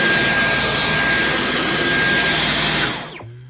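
A Dyson V11 Absolute cordless vacuum cleaner runs with a loud, steady whirring roar, then spins down and cuts off near the end.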